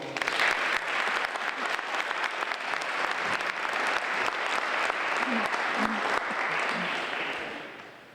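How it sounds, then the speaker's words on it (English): Audience applause at a Purple Heart Highway dedication ceremony honoring a city councilor, steady and full across the room, sustained throughout before tapering off at the end, with scattered voices mixed in. "So I hope you'll join me in giving a round of applause."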